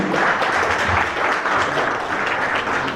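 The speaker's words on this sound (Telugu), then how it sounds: "please give a big clap everyone" A crowd claps steadily and loudly at the opening of a Malabar Gold jewellery shop, a dense continuous applause lasting the whole stretch without pause.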